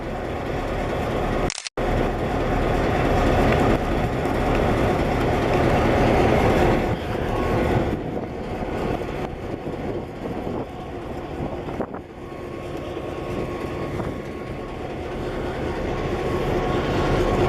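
A freight train with Cargill locomotive 722 rolls past close by, giving a loud, continuous rumble and clatter of railcars with wind buffeting the microphone and one brief dropout early on.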